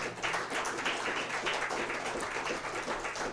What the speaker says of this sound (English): Give these folks another round of applause.